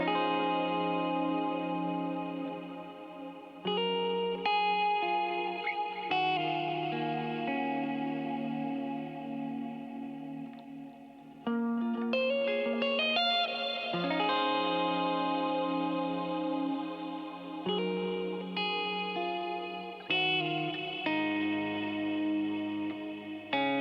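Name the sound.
guitar playing closing bit of song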